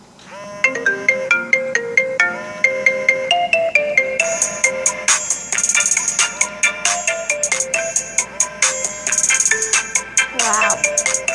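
A remix of the iPhone 6 ringtone plays loud and alone, with bright, plucky marimba-like notes over a steady beat, the phrases repeating rhythmically throughout.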